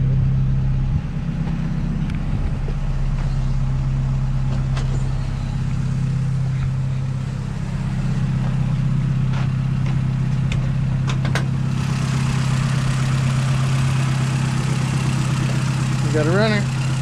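A Honda B-series engine idles in a Civic, a steady, loud, close rumble holding an even low drone throughout with no revving.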